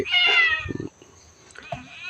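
A cat at Wat Pong Chai temple in Chae Hom, Lampang gives a drawn-out close meow, followed by short fainter sounds and a brief second meow near the end.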